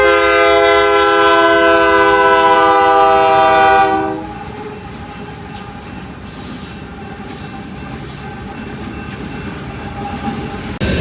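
A passing train sounds its horn loudly and close for about four seconds, a sustained multi-tone blast, followed by the steady rumble and clatter of rail cars rolling by at a roadside.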